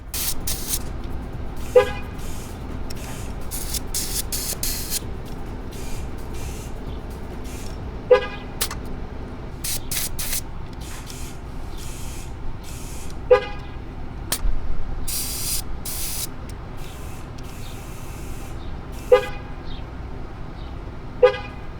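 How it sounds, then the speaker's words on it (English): A GM pickup truck horn gives short chirps while trailer tire pressure sensors are programmed, with several single brief toots spaced several seconds apart. A low engine idle runs underneath. "There's the horn chirps. We're now in program mode."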